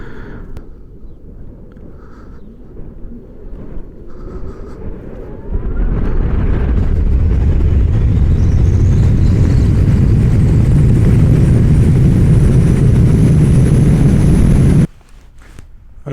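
A BMW fully electric scooter pulls away from a standstill and accelerates hard toward 100 km/h. After a quiet start, a loud rushing roar of wind and motor takes over, a thin electric whine climbs steadily in pitch, then everything cuts off abruptly.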